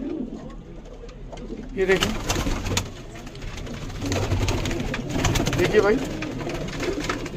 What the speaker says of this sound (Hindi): लाजवाब हीरे जैसे कबूतर हैं।